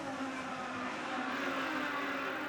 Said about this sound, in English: Mike Conway is out in front at the Indianapolis Motor Speedway.